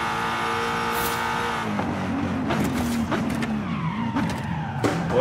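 BMW M2 drift car accelerating hard, a loud engine note rising in pitch over several seconds with tire squeal and gear-change breaks, close and continuous.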